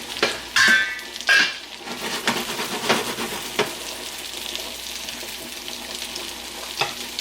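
Chia chicken meatballs fry and brown in a pan with a steady close sizzle, broken by a few louder scraping stirs and clatters near the start and scattered sharp spatters throughout.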